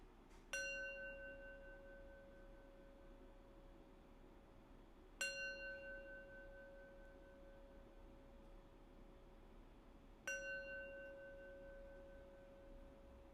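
A meditation bell is struck three times to close a practice session, each clear, resonant strike spaced about five seconds apart and left to ring out and fade alone in a quiet room.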